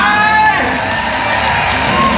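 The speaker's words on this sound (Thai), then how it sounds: "เราปรบมือให้กับเวียดนามกันตั้งหน่อยได้ไหม" A crowd claps and cheers for Vietnam's contestant on a stage show, a loud, continuous wash of applause and cheering with a bright musical tone layered over it.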